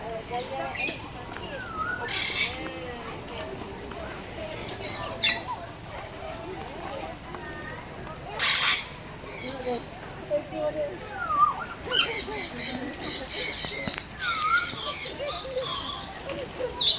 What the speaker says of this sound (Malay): Burung enggang.